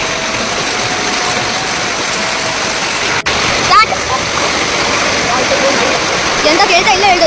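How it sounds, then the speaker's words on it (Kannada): Heavy rain pouring down in a village during the rainy season, a dense continuous hiss of falling water with splashing and gusty wind, and brief voices over it. "ತುಂಬಾ ಜೋರು ಮಳೆ ಬರ್ತಾ ಉಂಟು"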